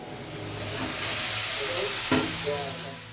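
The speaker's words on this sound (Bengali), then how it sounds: "মশলা কষে আলু ফুলকপিটাকে এখন দিয়ে দিলাম" Fried potato and cauliflower pieces cooking with a spice masala in a pan, a continuous dense sizzle with soft stirring and one brief knock midway, close and steady, no voices.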